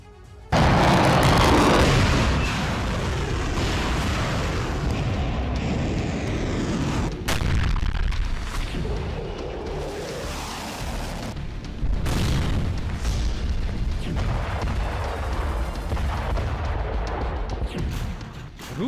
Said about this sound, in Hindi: रूस के एयर डिफेंस सिस्टम के बेस पर बड़ा विस्फोट कर दिया।